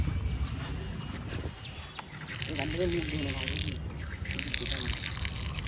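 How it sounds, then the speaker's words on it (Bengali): Water gushes steadily out of a filled water tank in a continuous close splashing rush, with someone talking over it. "দেখো ট্যাঙ্কিতে কেমন জল পড়বে দেখবা"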